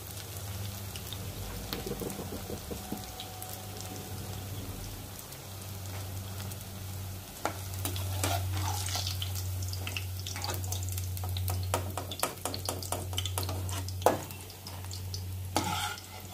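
Bottle gourd kofta frying in oil, heat turned low then high, giving a soft continuous bubbling sizzle that grows busier with scattered crackles, under a low steady hum and no talking.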